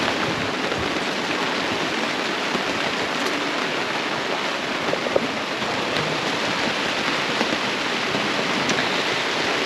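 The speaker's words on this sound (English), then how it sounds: "now it has continued to rain" Rain pours steadily onto a sailboat at sea on the Pacific during a squally night, a dense, loud, unbroken hiss with scattered drop ticks and no voices.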